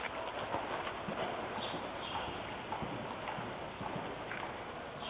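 A horse wearing a Western saddle walks along with steady, rhythmic clip-clop hoofbeats. The steps sound moderately close and continue evenly for several seconds, with faint background noise and no clear talk.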